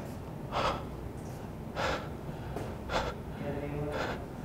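An actor breathes heavily for a scene, with four loud, rasping gasps at roughly one-second intervals over a faint background.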